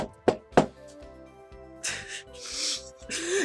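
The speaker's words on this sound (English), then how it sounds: "You'd think we would get like an actual sound effect instead of just knocking on the desk" Knuckles rap on a desk to stand in for a door knock, two sharp close knocks early on, with voices and breathy noises around them.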